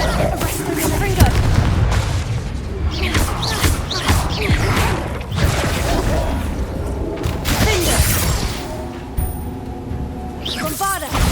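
Spell explosions in Hogwarts Legacy on PS5, Bombarda and Confringo blasts with crashing, shattering booms in rapid succession, loud and dense, under continuous battle noise and a voice shouting spell names.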